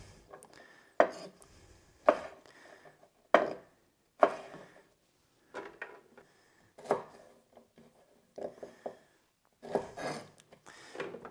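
A knife chops sharply on a board, topping and tailing green beans in a run of separate thuds, close and clear, with short pauses between the cutting strokes.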